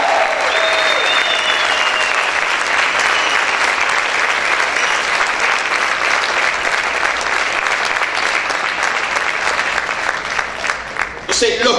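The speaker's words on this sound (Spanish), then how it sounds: "Grita y aplaude fuerte al Rey" A church congregation shouts and applauds loudly in worship, a sustained roar of clapping and cheering that carries on for several seconds before tapering off at the end.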